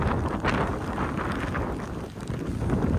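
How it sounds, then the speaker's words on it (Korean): Strong gusts from Typhoon Hinnamnor batter an outdoor nature park on Jeju near Seogwipo, with wind-driven rain roaring and buffeting the microphone continuously and loudly, with no voices. "11호 태풍 힌남노가 서귀포 먼바다 턱밑까지 내려와서 슬슬 비바람이 몰아치기 시작했어요"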